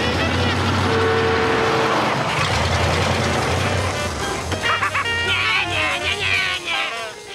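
A car roars close by at speed on a road, loud engine noise sweeping past with voices talking over and after it.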